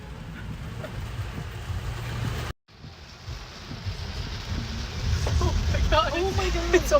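Floodwater pours like a waterfall during a flash flood in Orange County in the Hudson Valley, a steady loud rush under an excited voice, broken by a brief cut.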